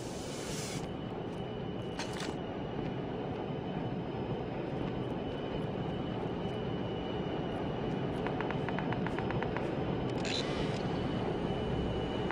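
A Call of Duty Mobile airdrop plane drones steadily overhead in a battle royale match, a continuous broad engine rumble lasting throughout with a few brief clicks and beeps on top.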